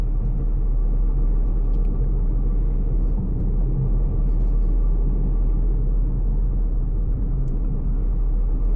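A Suzuki S-presso with an AGS automated gearbox labours uphill on a diversion road, its small engine giving a steady, loud, low rumble heard from inside the cabin.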